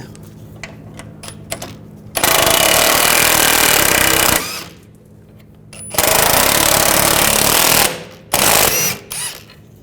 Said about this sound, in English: We're going to take these two bolts out. You're going to use an E12 socket.